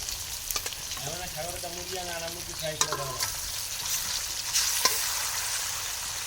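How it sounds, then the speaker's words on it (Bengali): Turmeric, chili, ginger and garlic sizzle and crackle steadily in a hot pan as they are stirred, with a voice talking briefly over the frying. "এই যে হলুদ মরিচ আদা রসুন দিয়ে কষাইতেছি"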